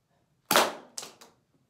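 An airsoft spring pistol fired once, a sharp loud snap followed by two quick fainter clacks as the pellet strikes, then quiet.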